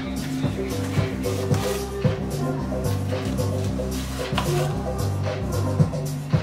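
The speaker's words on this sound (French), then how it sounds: "est en train de couper des petites slices d'oignons" A knife slices small pieces of onion on a cutting board while burger fixings are prepared, giving steady, evenly spaced taps that run the whole time under continuous background music.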